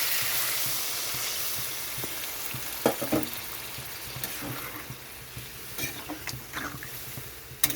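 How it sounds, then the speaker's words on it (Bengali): Potatoes and green beans sizzle in a pan for a Bengali fish curry as water is poured in, a steady broadband hiss with scattered sharper crackles and splashes, and no talking. "তো এখানে আমি জল দিয়ে দিচ্ছি পরিমাণ মতো"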